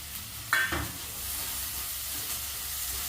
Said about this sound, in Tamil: சோம்பு கொஞ்சம் பொரியவே போட்டுறாங்க ரொம்ப பொரிய விடக்கூடாது பருத்து போயிடும் கருவேப்பிலை போடும்